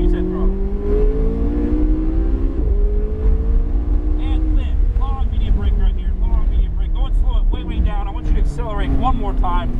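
A McLaren 570S pulling hard on a race track, engine note climbing and shifting through gears from inside the cabin, loud and continuous with an instructor talking over it.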